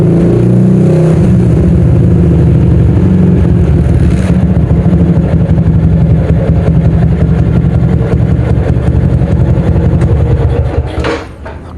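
A tuned 2007 Yamaha OJMX motorcycle engine runs after being restarted, a loud, steady close-up drone with a rough idle that holds throughout and cuts off near the end.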